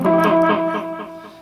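Electric guitar played through a Line 6 POD XT Live on a crunch preset, a few overdriven chords ringing out alone and decaying over about a second and a half.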